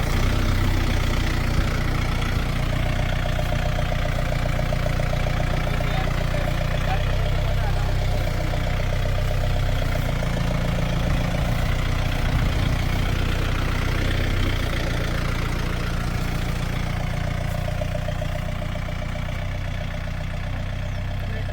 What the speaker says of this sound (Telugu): ఇప్పుడు మనం క్లచ్ లేకుండా డైరెక్ట్ ట్రాక్టర్ ముందుకి వెనకపోతాయి.